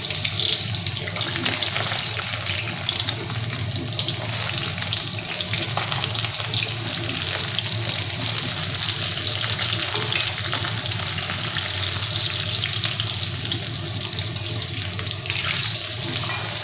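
Boiled potatoes frying in hot oil in a home kitchen, a steady, dense sizzle and crackle that runs loud and unbroken from start to finish.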